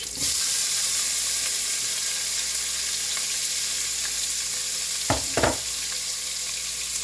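Onions and mushrooms sizzle steadily in a hot pan, a close, even hiss that fills the whole stretch, with a couple of brief utensil knocks near the end.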